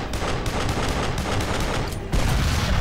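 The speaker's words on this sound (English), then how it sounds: "I'm shooting blindly because I can't see him that far" Dense, continuous rapid gunfire in the Duke Nukem Forever video game rattles loud and close in a sustained fusillade of overlapping shots, growing heavier and booming in the last moments.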